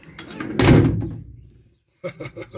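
The door of a 1968 Land Rover Series IIa 88 with a Morris Minor pull-down handle is swung shut with a loud, close metal thump that fails to latch, followed after a pause by a few lighter rattling clicks.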